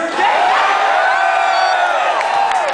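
A dense concert crowd roars and cheers at a metal show at Webster Hall in New York City, a loud, steady wall of voices and whoops that sustains without a break.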